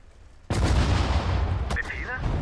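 In the strategy video game Sudden Strike 4, an artillery barrage opens with a sudden loud boom and rolls into sustained rumbling fire, with a short voice cutting through near the end.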